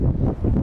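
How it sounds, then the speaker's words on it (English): Strong wind buffets the microphone outdoors at a waterfront shopping area, a loud, continuous low roar with no speech. "it's really windy"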